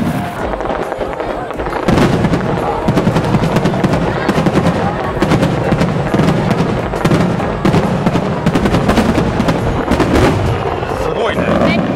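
Summer festival fireworks burst continuously with loud, overlapping booms and crackles, a dense barrage of near and distant explosions throughout.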